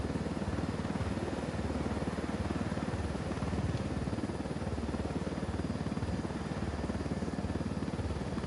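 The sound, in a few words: helicopter flying in a PS4 video game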